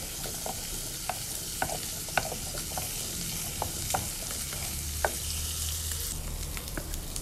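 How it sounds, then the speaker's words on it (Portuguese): Charque (dried salted beef) sizzles in a little hot oil in a frying pan, a steady crackling hiss with occasional scrapes of stirring, no voices. "Coloquei aqui nessa frigideira só um pouquinho só de óleo pra ir fritando a carne de charque."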